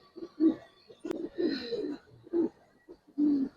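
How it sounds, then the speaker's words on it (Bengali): Silver Giribaz pigeons coo in a series of low, soft, rounded calls, close by and fairly quiet, with brief gaps between them. "দেখেন কবুতর"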